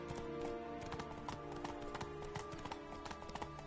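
Horse Roach's hooves clip-clopping in a steady trotting rhythm in a video game, close and fairly quiet, with faint background game sounds.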